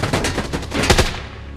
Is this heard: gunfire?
yes